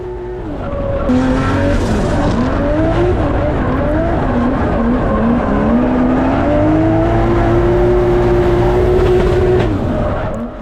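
A Nissan S14 with a swapped 2JZ engine drifts on a track, its engine wailing loudly and continuously with rising and falling revs, tyres squealing throughout, with no talk.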